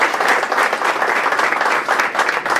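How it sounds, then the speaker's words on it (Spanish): A crowd applauds a former social security union leader as he is introduced, with dense, continuous clapping that stays loud and close throughout the short burst. "Aplauso para él, por favor."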